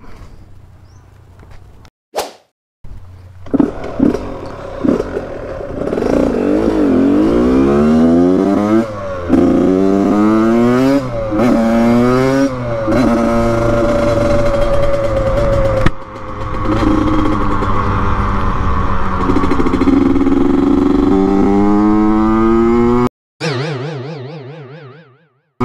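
A Yamaha YZ85 dirt bike on a muddy trail revs hard and repeatedly, its engine climbing and dropping in loud, close bursts with a brief cut-out near the end.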